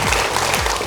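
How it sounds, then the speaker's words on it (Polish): A studio audience gives a brief burst of steady applause, the dense clapping loud and close, lasting under a second. "te brawa były w pełni zasłużone"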